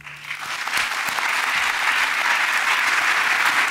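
Audience applause greeting speaker Earl Palmer at a New College Berkeley session, a dense, steady wash of clapping that builds in the first second and holds strong and even throughout.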